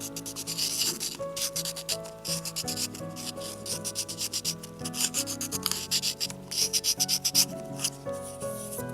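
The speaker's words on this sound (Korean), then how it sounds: "꼼꼼하게 샌딩 작업을 해주세요." Sandpaper rubs over a small handmade miniature bowl in steady back-and-forth strokes, close and dry, with a faint musical background playing underneath and no talking.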